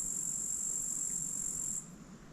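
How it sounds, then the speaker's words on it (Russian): A continuous high-pitched chirring of crickets fills a quiet outdoor space, steady and moderately faint, fading slightly near the end. "шумят насекомые, сверчки, еще кто-то, жуки, паучки, поют птицы"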